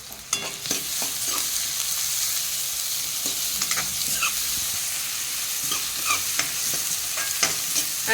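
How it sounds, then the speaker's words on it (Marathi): Chopped onion fries in hot oil with mustard seeds and cumin, crackling and sizzling steadily while a utensil stirs and scrapes the pan in repeated close clicks, with no talking. "अशा प्रकारे फ्राय करून आपण कांदा घेत आहोत।"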